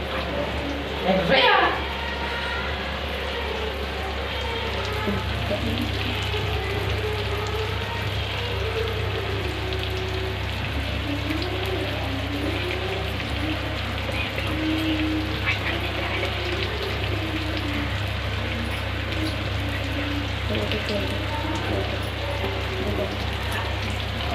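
Fish pieces frying in a pan, a continuous close sizzle and spatter lasting throughout, with a person talking over it.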